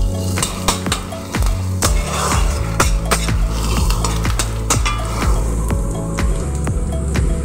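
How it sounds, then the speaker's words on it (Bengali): Crushed ginger and garlic frying with onions in a pan, with loud repeated metal clanks and scrapes from stirring over a steady sizzle, no talk. "আদা রসুনটা দেবার পর আবার একটু পেঁয়াজের সাথে ভালো করে একটু ভেজে নেব।"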